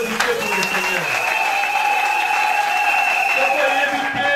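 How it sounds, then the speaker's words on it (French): A church congregation claps together in a steady, dense wash of applause that lasts throughout, with sustained tones and faint voices running beneath it. "Applaudissez pour le Seigneur."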